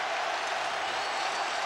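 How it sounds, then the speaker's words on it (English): A stadium crowd of Castleford supporters gives a sustained ovation at a rugby league Challenge Cup Final, a dense steady wash of applause filling the whole stretch. "Tremendous ovation there from the Castleford crowd"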